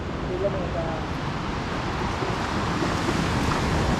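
Steady roar of sea waves mixed with strong wind buffeting the microphone, loud and continuous, with faint voices underneath, on Balagbag beach in Real, Quezon, Philippines.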